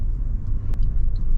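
Low, steady rumble of a Fiat 500L rolling along in second gear, heard from inside the car with road noise and a couple of faint clicks, no talking.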